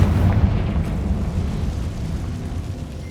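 A Confringo blasting spell detonates in Hogwarts Legacy, a loud, deep boom at the start that rolls into a long rumbling, crackling decay.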